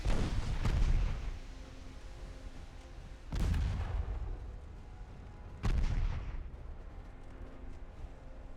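Heavy naval cannon fire from 14-inch guns in Ultimate Admiral Dreadnoughts: three loud, booming blasts spaced a few seconds apart, each with a long rumbling tail, and no talking.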